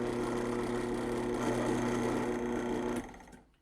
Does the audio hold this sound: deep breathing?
no